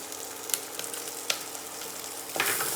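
A couple of peppercorns dropped into a pan of sizzling garlic and onion while starting a roux for chicken soup, giving a steady close frying hiss with a few sharp ticks and a brief louder burst of sizzle at the end.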